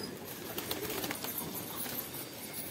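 Pigeons in a loft, faint soft cooing mixed with brief bursts of wing flapping, distant and low in level with no speech over it.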